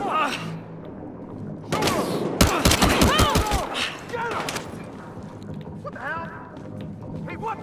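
Battlefield Hardline gunfire, with a gun battle tearing through a room and a chalkboard failing to stop bullets: a short, loud, close burst of rapid shots lasts about two seconds, with a voice talking before and after it.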